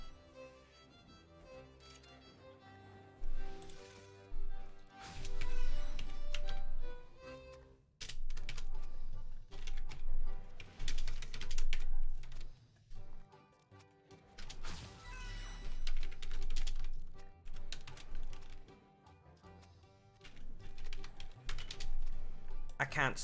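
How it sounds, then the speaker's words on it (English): Computer keyboard typing in bursts over a running game stream with music and effects, the clicks partly buried in the busy mix while a voice talks between them. "I'm typing to you what I'd change the name to."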